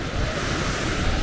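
Big ocean waves break at Alleppey beach, a continuous close roar of surf and rushing water mixed with wind buffeting the microphone, with no voices.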